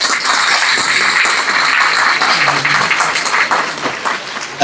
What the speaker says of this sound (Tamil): இப்போ எல்லாரும் கைதட்டினீங்க மகிழ்ச்சி